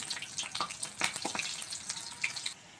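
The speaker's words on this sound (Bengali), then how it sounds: "দেখুন বন্ধুরা বক ফুলগুলো ভাজা হয়ে গেছে" Sesbania (bok) flower fritters frying in oil, heard as a short close crackling sizzle with sharp pops, fairly quiet and with no voices.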